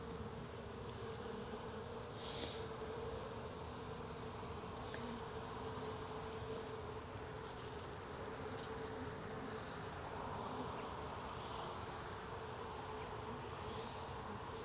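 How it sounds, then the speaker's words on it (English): Honeybees buzzing around an open hive with frames lifted out, a faint, steady, dense hum from many bees that continues throughout, with a few louder passes close by and no talk. "There are just lots of bees hanging on this frame"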